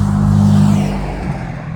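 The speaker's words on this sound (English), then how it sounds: "just like that truck that drove by" A passing truck drives by close and loud, a heavy engine rumble that swells and then slowly fades, with no voices heard.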